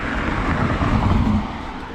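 A Japanese kei truck rumbles along a road in Tochigi, its steady engine and tyre noise fairly close and loud, rising slightly in the middle and holding on with no voices.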